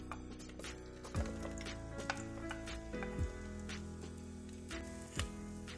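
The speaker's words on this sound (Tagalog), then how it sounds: "igisa ang sibuyas" Chopped onion sautéing in two tablespoons of hot cooking oil in a pan for Filipino chicken curry gives a soft, steady sizzle with a few stirring knocks, partly under continuous background music.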